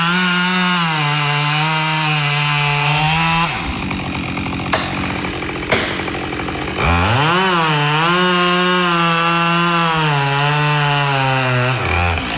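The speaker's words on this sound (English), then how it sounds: "operating a chainsaw in Australia" A Husqvarna 572XP chainsaw cuts wood outdoors in wet Australian conditions, loud and close. The engine screams at high revs, bogs into a rough, lower drone while in the cut, then revs back up, with no talking.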